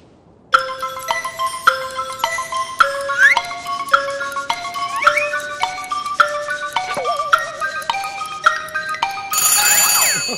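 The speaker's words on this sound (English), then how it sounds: "That phone is gonna start ringing any minute." A telephone rings with a bright electronic ringtone, loud, a rhythmic chiming melody of repeated tones that swells into a busier jingle at the end.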